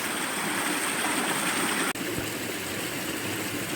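Water tumbling down a series of small cascades in a woodland clough, a steady close rush of broadband noise that holds constant with a brief dropout midway.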